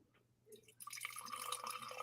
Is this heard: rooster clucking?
no